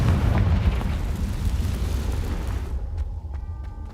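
A Confringo explosion spell in the Hogwarts Legacy game erupts as a loud, deep blast. Its rumbling tail fades over about three seconds before cutting to near quiet with a few light clicks.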